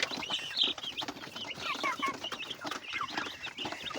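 Two-month-old village chickens cluck and chatter busily while being fed, with overlapping soft calls and occasional sharper notes, close by against low background noise.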